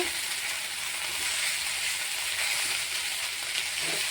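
Spinach, eggplant and potato fry with spices in a pan, a steady, even sizzle and hiss with no voices over it.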